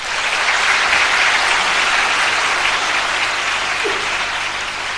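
Loud, dense audience applause at a literary talk in Singapore, a sustained roar of many hands clapping that continues without break and fades only slightly at the end.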